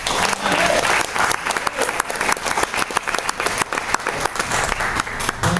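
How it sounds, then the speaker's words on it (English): An audience at a talk on reverse mortgages bursts into loud, sustained applause, many hands clapping densely and continuously throughout. "Let's give a big round of applause to Nick."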